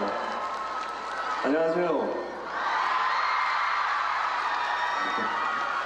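Fans at an actor's fan meeting cheer and scream steadily in a large hall as the actor appears on stage. Loud and sustained, with a brief spoken greeting cutting in.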